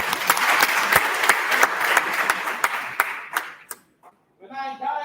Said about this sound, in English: I need a big round of applause for this